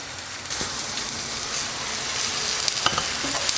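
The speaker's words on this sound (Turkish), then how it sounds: "Ve soğanlarımın yumuşamasını sağlayacağım. Şimdi üzerini kapatıyorum ve pişmeye bırakıyorum." Onions with salt softening in a covered pan, giving a steady close sizzle with occasional soft pops and no talking.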